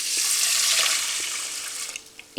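Water pours into a saucepan holding red lentils, a steady broadband rush close by that stops abruptly near the end, followed by a brief clatter.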